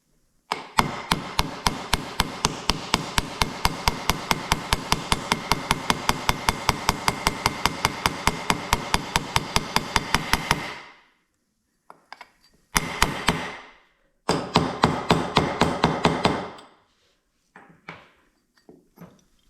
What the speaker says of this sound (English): now I'll just get a socket that's almost the size of this OD and drive it home